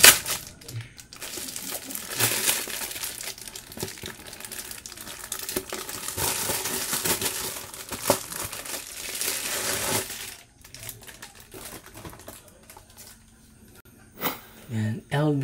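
Plastic and cardboard packaging crinkles and crumples as a rare album collection is opened, loud handling noises for about ten seconds followed by quieter rustling and a few taps, with someone talking over it.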